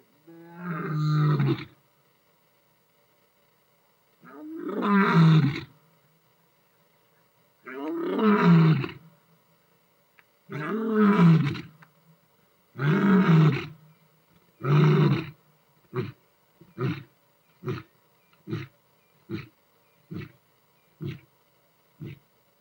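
A big male lion roars from close by in the afternoon bush: several long, deep bellowing roars spaced a few seconds apart, then a string of shorter grunting calls that fade off at the end.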